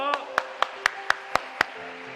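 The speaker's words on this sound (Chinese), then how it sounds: "拍手" A church congregation claps together during a Sunday service, seven sharp, evenly spaced claps about a quarter second apart, fairly close and clear over a quiet room hum.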